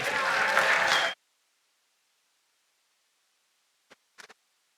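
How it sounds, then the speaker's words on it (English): Applause for the ladies who made a Development Bank of Namibia 20th anniversary evening possible, a dense burst of crowd clapping for about a second before stopping abruptly, then a few faint isolated claps. "So can we give them a big, big round of applause?"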